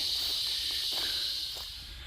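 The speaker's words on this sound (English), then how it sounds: "Man, the cicadas are loud here." Loud, continuous high-pitched cicada buzzing fills the air as a steady drone along a park trail, with faint rustling footsteps underneath.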